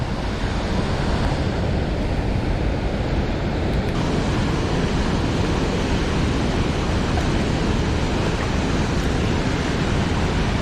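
A loud, steady roar of a river gushing out of a hole in a cliff nearby, constant and broadband like a powerful torrent, with no voices.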